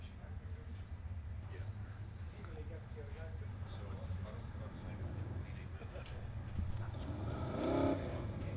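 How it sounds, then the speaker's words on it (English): Low engine rumble from several saloon race cars idling and revving in the distance at a New Zealand race meeting, with a faint announcer voice talking over it and a louder swell near the end. "You can hear the rumble as they firing up and coming out."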